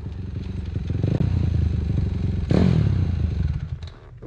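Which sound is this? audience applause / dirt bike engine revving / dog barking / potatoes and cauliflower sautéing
dirt bike engine revving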